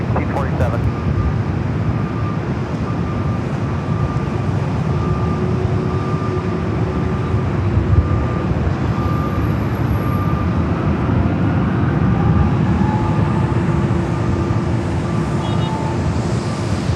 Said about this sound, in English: A321 Neo heading to Salt Lake City.